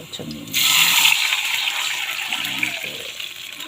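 Coconut milk poured into a cooking pot with labahita fish and other ingredients, a loud rushing splash that starts abruptly and pours steadily for several seconds, alone without talk.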